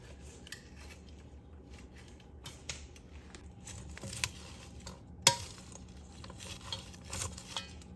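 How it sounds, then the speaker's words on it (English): Seasoned sweet potato fries tossed with tongs in a bowl, giving soft rustling and scraping with a few light metallic clicks, close and fairly quiet, one sharper clack near the middle. "And now just mix it. You can get your hands in there or just use tongs if you need."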